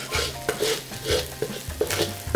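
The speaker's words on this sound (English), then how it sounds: "I'm letting the wok get hot and then the oil enough to fry my dried prawns. So it should have this sizzle." Dried prawns frying in hot oil in a wok with stirring and scraping over it, a steady crackle broken by clinks and scrapes.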